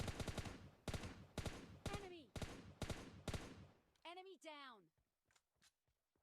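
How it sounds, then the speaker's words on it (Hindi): Quiet, rapid bursts of gunfire from a battle royale video game crackle in quick succession, followed briefly by a voice. "गोली की आवाज़ आती है कि भाई ऊपर भी गोली चल रही है और साइड में भी गोली चल रही है"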